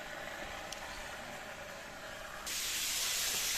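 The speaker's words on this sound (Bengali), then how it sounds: "মাছ ভাজা চলছে" A steady, hissing sizzle of tilapia frying in hot oil, close by, swelling suddenly louder and brighter partway through.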